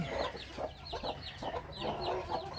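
Chickens, a mix of upgraded native birds and US silkies, cluck repeatedly in short overlapping bursts at close range, a steady busy chatter with no talking.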